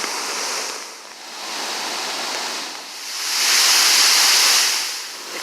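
A river rushes loudly and continuously close by, a dense broadband roar of flowing water that swells slightly louder toward the end.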